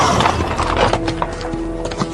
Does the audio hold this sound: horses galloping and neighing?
yes